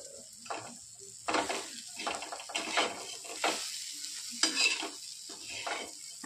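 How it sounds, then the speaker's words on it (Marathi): A pinch of hing tossed into a pan of cooking moth bean dal, bursts of sizzle and scraping spoon stirs in uneven pulses, close and fairly quiet, with no talking. "आता टाकत आहोत आपण थोडीशी हिंग"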